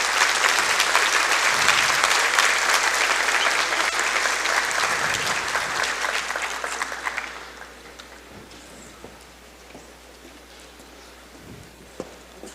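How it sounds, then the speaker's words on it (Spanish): Loud, dense audience applause for a speaker at the XV Congreso, sustained for about seven seconds before fading to a quiet room with scattered faint sounds. "Despidamos con un fuerte aplauso al maestro Arturo Lara Martínez"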